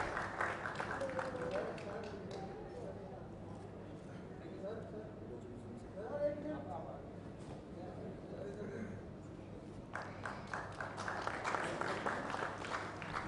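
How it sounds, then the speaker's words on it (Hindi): An audience applauds at a government e-governance conference inauguration, with bursts of clapping at the start and again toward the end, and a voice speaking over the quieter middle stretch. "देवियों और सज्जनों, तालियां।"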